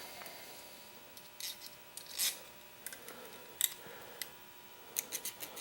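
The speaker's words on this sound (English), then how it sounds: "use the file on my Leatherman" Short rasping strokes of a Leatherman multitool's metal file on a small metal nub, quiet, close and intermittent, coming in brief separate scrapes with pauses between them and no speech.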